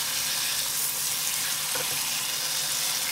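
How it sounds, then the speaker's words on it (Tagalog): Ground beef sautéing in a non-stick pan with liquid seasoning: a continuous, even sizzle close up, steady throughout with a faint scrape or stir partway through. "Sunod naman nating igisa yung giniling"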